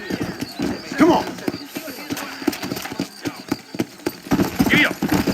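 Horse hooves clip-clopping at a steady gallop in the Western video game Red Dead Redemption, a close rhythmic run of hoofbeats with a brief whinny, heard under intermittent talk between characters.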